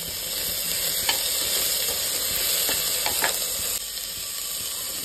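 Tomatoes go into a hot frying pan with onions and vegetables for mashale bhatt and are stirred, giving a steady sizzle with a few sharp spoon scrapes and clinks, close and constant.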